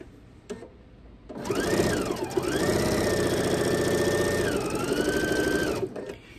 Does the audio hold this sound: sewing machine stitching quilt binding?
yes